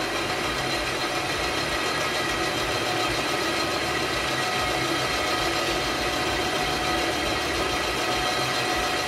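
An end mill cuts an aluminum rim on a second pass at 400 RPM, producing a loud, steady mechanical drone with constant grinding noise that holds unchanged throughout and is heard alone.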